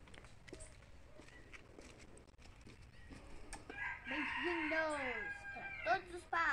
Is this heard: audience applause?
no